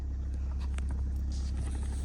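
A warmed-up car engine runs steadily at a winter forest campsite by a riverside, a constant low rumble with faint wind noise above it and no talk.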